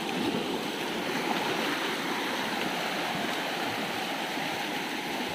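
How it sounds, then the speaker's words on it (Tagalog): Bangka Bangka Falls in Pagbilao, Quezon, with a strong stream current, a loud, steady rushing roar of falling and flowing water, close and continuous without pause. "Ayan na medyo malakas ang agos ngayon."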